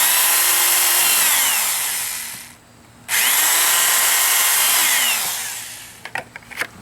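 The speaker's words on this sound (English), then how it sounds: "And all I'm doing is just drilling through." A power drill bores through lengths of rain gutter being made into pigeon perches, its loud whine running steadily for about two seconds, cutting out briefly, then spinning again before a few sharp clicks and knocks at the end.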